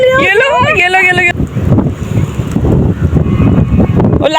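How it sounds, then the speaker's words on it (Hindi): Strong wind buffets the microphone by a river on a family outing, a steady low rumbling roar that swells and dips, preceded by a brief burst of music or singing at the start. "और इतनी तेज़ हवा चल रही थी"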